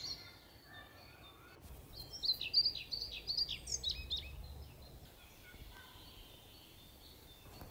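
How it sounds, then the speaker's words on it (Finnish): A European pied flycatcher singing in a played bird sound sample: a short series of high, thin chirping phrases, fairly faint over a quiet outdoor background, lasting a few seconds. "Se ensimmäinen oli kirjosieppo."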